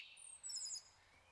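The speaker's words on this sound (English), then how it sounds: "that's a loud bird" A single bright, piercing bird call rings out in The House in Fata Morgana, a short high descending whistle-like cry over near silence, heard alone.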